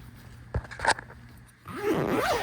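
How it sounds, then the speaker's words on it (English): A quiet zipper on an Ameristep chair blind's window is pulled in a few short tugs, then a longer, louder zip runs steadily for about a second; no talking. "you can use the zipper here"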